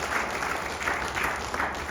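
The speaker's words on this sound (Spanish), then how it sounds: "Denle un fuerte aplauso a Cristo." A church congregation claps in steady dense applause for Christ, a continuous even wash of many hands at moderate level with no talk over it.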